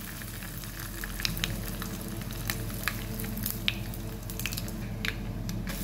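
Curry leaves, mustard seeds and cumin sizzle in hot oil, a steady close frying hiss broken by sharp crackles and pops throughout, with no one talking.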